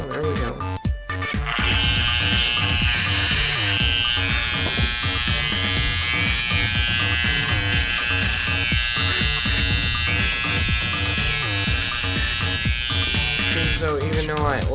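An Andis Master ML electric hair clipper, its oiled blade moving stiffly, runs in a steady loud buzz from about 2 to 14 seconds, with a brief start-up stutter and low-level sounds at the beginning.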